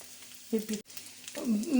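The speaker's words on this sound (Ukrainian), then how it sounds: "І зразу кладіть і смажте." Small dough pies sizzle in hot oil in a pan on a home stove, a steady close frying hiss broken by brief knocks, with someone speaking over it.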